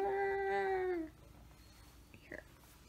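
A single drawn-out meow, long and falling in pitch, is followed by quiet shuffling and a short faint squeak.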